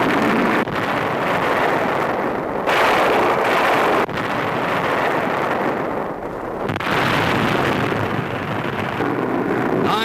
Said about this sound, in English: our big guns let them have it